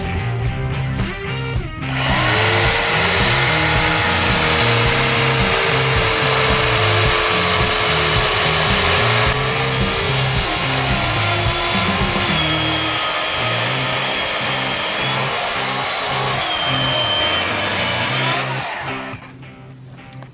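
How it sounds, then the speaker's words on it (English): A small electric chainsaw cuts into a large walnut tree about two feet across, giving a loud, steady motor whine that holds for nearly twenty seconds before winding down. "we're gonna cut the whole thing with this little bitty electric chainsaw"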